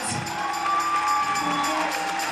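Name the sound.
audience applause and cheering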